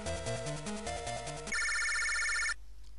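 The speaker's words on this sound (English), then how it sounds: "Ring, ring, ring." A phone rings in the Mega Man Battle Network video game: a chirpy electronic melody of stepped tones, then a sustained bright electronic trill for about a second before it cuts off, loud and alone.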